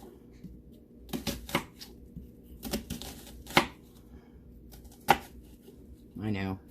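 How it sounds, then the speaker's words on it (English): A knife coarsely chops half an onion on a board, giving a handful of sharp, close chops at uneven intervals between quieter cutting sounds, and a voice is heard at the end. "So we're going to chop up half an onion"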